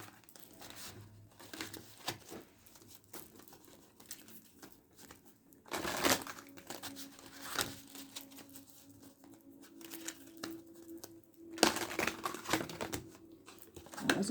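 Tarot cards being shuffled in quick crinkling bursts, with louder riffles around the middle and near the end, against a quiet room.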